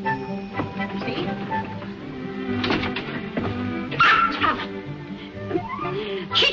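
A dog yips, barks and whimpers in short bursts over a bed of old film-soundtrack background, moderately close, with a person talking intermittently.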